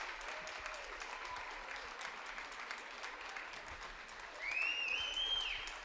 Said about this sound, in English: Please stand and give her a round of applause.